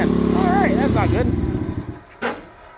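A 50cc Icebear Maddog scooter engine runs at a high, fast idle near 4,000 RPM, a steady loud drone that fades and trails off with a brief burst near the end, with a person talking over it.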